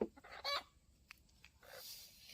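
A chicken startled in a Thai forest patch where mushrooms are being gathered gives a few short, faint clucks and squawks, brief bursts amid quiet outdoor background without talk.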